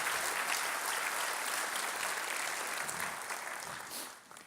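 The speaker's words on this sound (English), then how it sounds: "So please let's give them a big round of applause for the work that they do." A civic business event audience gives a round of applause, a dense, even wash of many hands clapping together at a modest level, sustained and then tapering slightly toward the end.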